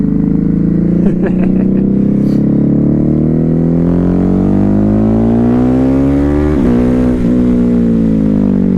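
A Ducati Hypermotard 950 motorcycle engine drones loudly and close while being ridden on a mountain road, its pitch rising steadily with small shifts and dips between gears, continuous throughout.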